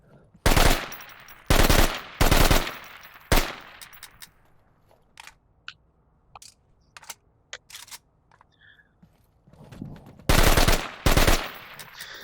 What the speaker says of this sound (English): that's that type of rate of fire that you only get with the AK